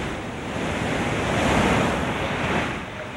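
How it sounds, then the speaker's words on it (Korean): High sea waves surge under strong wind near a fishing boat stranded on a reef, a loud, roaring broadband rush with wind buffeting the microphone, swelling and easing over a few seconds. "높은 파도와 강한 바람에"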